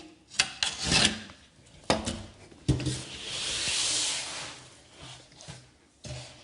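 A utility knife finishes a cut through a plasterboard sheet: several sharp scraping rasps in irregular bursts, close and fairly loud, then a longer soft tearing hiss.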